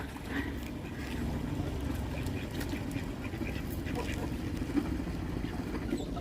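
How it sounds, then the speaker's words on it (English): Ducks quack intermittently beside the River Thames near Oxford, soft and somewhat distant over a steady low rumble of wind and boat noise, with faint voices in the background. "Oh, here come the ducks."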